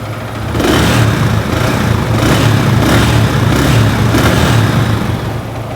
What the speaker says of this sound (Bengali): বাইকটা কিন্তু স্টার্ট করা হলো, আর আপনার সাউন্ডটা শুনতে পাচ্ছেন আশা করি